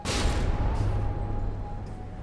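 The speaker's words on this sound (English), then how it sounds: "the Bamboozler finally shoots from its main weapons" A craft in From the Depths firing its main weapons, CRAM artillery, a heavy booming blast at the start trailing into a long rumbling roar, with a faint second report later and a steady tone underneath.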